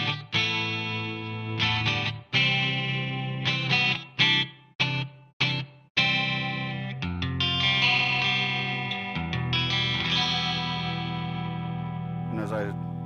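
A BC Rich Bich Perfect Ten guitar played through effects rings out in bright, shimmering chords, first in choppy stabs with sudden stops, then in longer sustained strums, close and clear.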